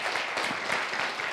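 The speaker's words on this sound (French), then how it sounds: "Oui, on peut l'applaudir" A brief burst of applause from a church congregation at a baptism service, dense and even, with no talk over it.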